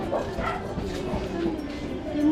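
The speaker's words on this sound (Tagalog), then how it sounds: "May aso na." A dog yips and bow-wows at the roadside near a building on a hillside, its barks mixed under steady outdoor noise and people talking nearby.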